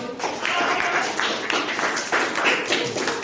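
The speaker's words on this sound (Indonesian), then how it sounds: "Ya, tepuk tangan untuk kelompok 1." A classroom group claps for the first group after its presentation, a short burst of brisk, uneven hand clapping from a modest number of people, fairly close and continuous for a few seconds.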